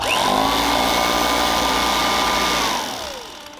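A Kirby Classic III vacuum running a Hand Butler jigsaw attachment whines loudly and steadily at close range, then its motor pitch slides down as it winds off near the end.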